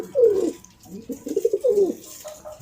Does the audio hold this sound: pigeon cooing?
yes